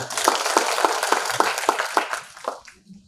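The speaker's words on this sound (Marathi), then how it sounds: "साहेबांसाठी टाळ्या वाजवा." An audience at a lecture series claps in a short round of applause, with a steady run of fairly close claps that thin out and die away after about two and a half seconds.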